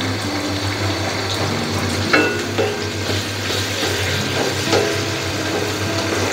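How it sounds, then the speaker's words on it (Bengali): Chopped tomato added to mutton curry cooked with chickpeas, giving a loud, steady sizzle of frying in a pan with stirring scrapes and a few wet bubbling pops throughout. "এখন দিয়ে দিব টমেটো কুচি"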